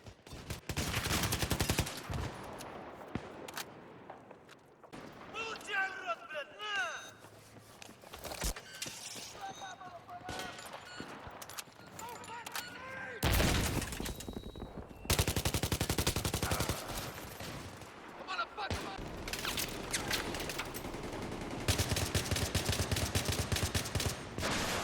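Rapid bursts of automatic gunfire and single shots ring out in Battlefield 3 gameplay, loud and repeated with brief gaps, mixed with in-game effects under a talking voice.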